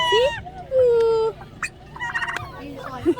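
Turkeys gobble close by in a farm setting, a drawn-out wavering call followed by several shorter gobbles and clucks, loud and clear over a soft background.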